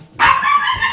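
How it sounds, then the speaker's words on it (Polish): A dog gives a single loud, close bark that trails off into a brief whine, with quiet surroundings before it. "Aż pies zaszczekał."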